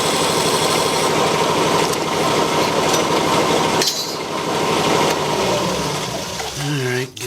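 A homemade wood lathe runs steadily during bottom hollowing with a hidden plug, a continuous close mechanical hum with rhythmic whirring and occasional tool scrapes, winding down near the end.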